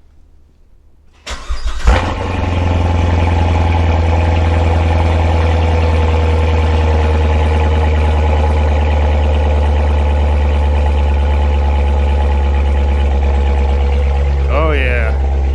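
A C7 Corvette Grand Sport fitted with an AFE cold air intake cranks from cold after a quiet stretch, catching with a loud burst at about two seconds and settling into a steady, deep, rumbling high idle close by.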